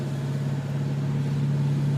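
A 2013 Dodge Challenger R/T Plus with its Hemi engine and a modified muffler idles steadily nearby, a deep, even rumble holding a constant low drone with no voices.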